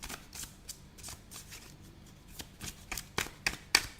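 Oracle cards being shuffled by hand, a soft papery riffling that runs throughout with sharper flicks and snaps near the end, close and fairly quiet.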